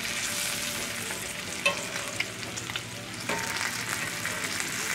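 Bacon sizzles and crackles steadily in a cast iron skillet, a dense close frying hiss with a few sharper pops and light scraping, no voices.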